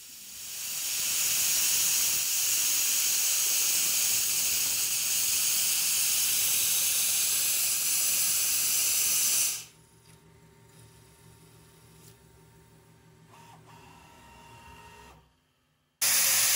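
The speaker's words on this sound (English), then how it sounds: "Here we're doing a finishing pass on the tenon." Hardinge CNC lathe taking a finishing pass on a match barrel tenon: a steady, bright hissing cut runs loud for about nine seconds, then drops to a quieter machine hum with faint ticks.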